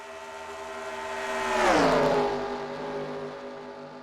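A pack of race cars in a Daytona racing video game sweeps past, the engine whine rising to a peak at close range and falling away in a pitch-dropping pass, with engine drone continuing underneath.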